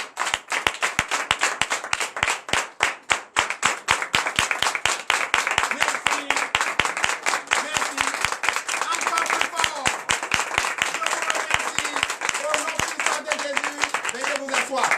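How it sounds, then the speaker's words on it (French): A large church audience at a night deliverance service in Comè, Benin claps and applauds loudly and steadily throughout, with dense, continuous hand claps close up and a few voices rising above the crowd. "Que je vous demande d'applaudir très fort."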